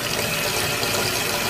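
Cool tap water runs in a steady, loud, unbroken rush while synthetic wigs are rinsed, with no talk over it.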